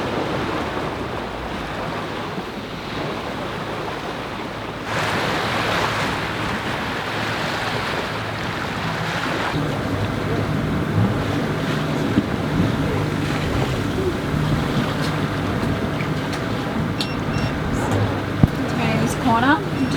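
A sailboat motor sailing under a light breeze, a steady engine rumble mixed with wind buffeting the microphone and waves washing along the hull, continuous and fairly loud with speech heard over it.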